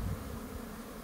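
Honeybees in spring hum at the entrance of their hive, where a water feeder has just been set up. The buzzing is quiet and steady, with no voices.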